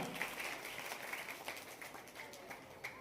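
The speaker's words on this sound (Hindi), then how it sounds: "तालियां बजाओ बेटा।" Scattered applause rises from a crowd at an Independence Day event at a government senior secondary school in Rajasthan. It sounds faint and distant, with soft rolling claps and a few sharper bursts.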